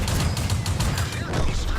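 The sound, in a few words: tank gun firing in bursts in the video game World of Tanks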